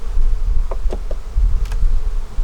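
Honeybees buzzing loudly in an open hive during a fall beekeeping inspection, a dense, close, continuous drone with a few individual bees zipping past near the ear.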